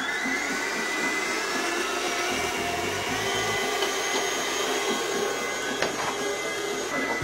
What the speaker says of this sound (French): Là, on va commencer à monter des blancs. Donc, au batteur, ce sera beaucoup plus simple.